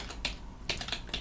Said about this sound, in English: Let's try just typing it.